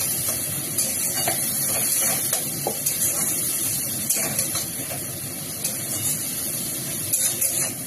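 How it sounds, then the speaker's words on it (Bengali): Onion masala sautéing in a pan with cumin, chili and turmeric powder, a continuous close sizzle and hiss with occasional soft stirring scrapes and ticks. "জিরে গুঁড়ো, লঙ্কা গুঁড়ো, হলুদ দিয়ে এবারে ভালো করে এটাকে একটু কষে নেবো"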